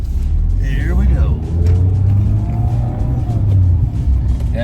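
A 2021 Mazda Miata RF Grand Touring roadster with a 6-speed manual pulling away, its low engine rumble rising and falling through gears under continuous talking.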